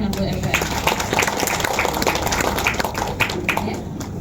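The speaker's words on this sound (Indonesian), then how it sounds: "Tepuk tangan buat LPM" Applause at an international accreditation mentoring session at UIN Raden Fatah, honouring the LPM quality assurance unit: a room of people clapping steadily and fairly loud, with scattered individual claps standing out.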